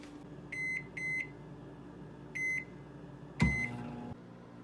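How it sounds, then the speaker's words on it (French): A microwave oven hums steadily while heating a pork roast and potatoes, giving four short, clear beeps spread across the run before a louder thump and the hum cutting out near the end. "Et je vais mettre le tout au micro-ondes."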